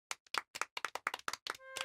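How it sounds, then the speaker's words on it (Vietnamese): A small group of people clap in thanks for a colleague in an office scene. The claps come as distinct bursts in an uneven rhythm, and a sustained tone enters near the end. "Cho cô ấy một tràng pháo tay cảm ơn đi."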